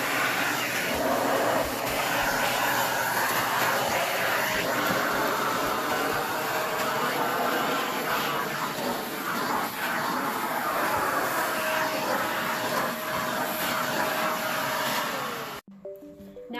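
A Shark Navigator Lift Away bagless vacuum cleaner runs steadily on carpet with a loud, continuous motor whine and airflow roar, cutting off abruptly near the end.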